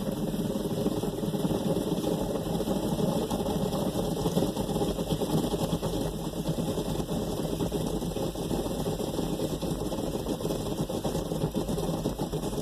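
A Belanger Vector Freestyler automatic car wash working over a car's hood, heard from inside as a constant loud droning rumble of pumps and spraying water with no pause.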